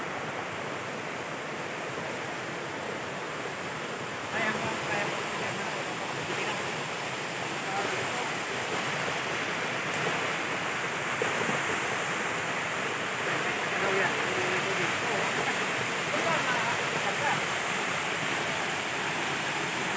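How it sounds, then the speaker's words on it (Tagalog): A big waterfall in a rural setting gives a steady broadband roar of falling water that fills the whole stretch evenly. "Ito napagitna ang falls."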